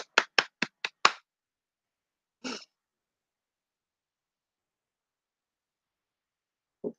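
Hand claps ring out in a quick run of five or six, then one isolated clap after a pause and a faint last one much later, crisp and close against silence.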